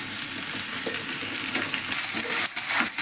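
Thinly sliced ivy gourd pieces hitting a pan of frying onions and chillies, a steady loud sizzle with scraping stirs layered on top, close and continuous, with a brief shift in texture near the end.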